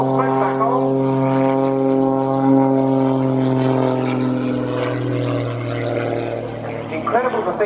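A Pitts Special aerobatic propeller aeroplane performs at the RNAS Yeovilton International Air Day display in 2017, its engine and propeller giving a steady, loud buzzing drone that slowly drops in pitch as it flies.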